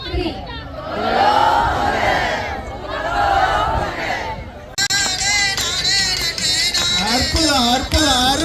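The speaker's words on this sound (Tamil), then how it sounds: "எல்லாரும் பொங்கலோ பொங்கல் சத்தமாக சொல்லலாமா?" A festival crowd at a Pongal celebration shouting "Pongalo Pongal" together, loud massed voices rising in waves, followed by more energetic cheering and excited shouting close by.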